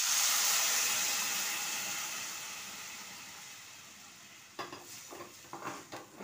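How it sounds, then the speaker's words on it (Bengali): Egg chicken soup is stirred in a pot, a soft steady hiss fading over several seconds, followed by a few light scraping and clinking strokes near the end. "একে ভালো করে আমি নেড়ে নিচ্ছি।"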